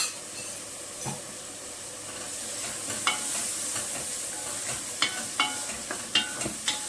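Cumin, dried coriander and other spices fry and sizzle in a pan for shrimp rice, a steady close hiss with intermittent spoon scrapes and taps against the pan as they are stirred.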